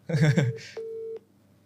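An iPhone dialing out on speakerphone: a voice talks briefly, then one steady electronic dialing tone holds for about half a second before cutting off.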